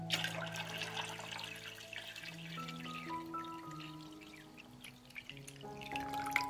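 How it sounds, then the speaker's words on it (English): Water poured into a cooking pot holding glass jars set on a cloth for pasteurizing, a steady liquid rush mixed with gurgles and faint drips, heard alone over background music tones. "I pour water into the pot up to the height of the lid."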